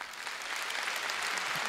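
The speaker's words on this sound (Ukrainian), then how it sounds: "Вам також аплодисменти." A concert audience applauds at a concert: dense, continuous clapping from a large crowd that holds steady and swells slightly, with no other sound over it.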